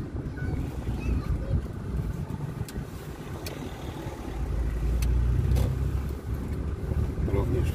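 Heavy road traffic heard from inside a moving car on a detour route in Sosnowiec, Poland: a continuous low engine and road rumble that swells louder as traffic passes, close and steady throughout.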